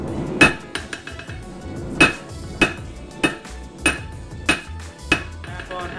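Hammer blows forging a steel dagger on an anvil, sharp ringing metallic strikes landing roughly every second, loud and close, with lighter taps between them.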